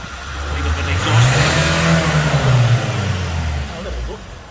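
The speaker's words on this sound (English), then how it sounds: "Take myself behind and then give it a few revs, yeah. Bring up the exhaust." A 2016 Renault Kadjar mk1 with a 1.6 diesel engine is revved close to the exhaust, the note swelling up, holding for a couple of seconds, then dropping back toward idle.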